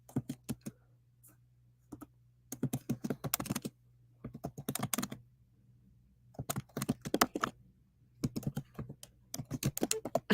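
Fast typing on a computer keyboard, heard as bursts of crisp key clicks close by, separated by brief quiet pauses, with a faint steady hum underneath.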